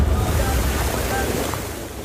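Muddy floodwater mixed with logs rushing through Laurel, Batangas during Typhoon Kristine: a loud continuous broadband roar with heavy low rumble and wind buffeting, slightly easing toward the end.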